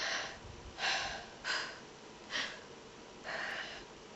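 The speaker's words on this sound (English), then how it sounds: "Was that too much breathing?" Five heavy, audible breaths come close to the microphone, each a short breathy gust separated by brief pauses, in an otherwise quiet room.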